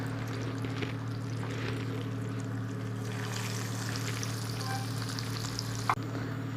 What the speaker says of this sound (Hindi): अभी हम चिकन की फ्राई कर लेते हैं तेल में।